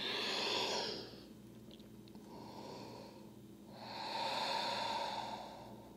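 Ujjayi breathing during yoga practice: a slow, airy breath with a throaty hiss, one long stroke, a quieter pause, then another swelling stroke, close and unaccompanied by talk.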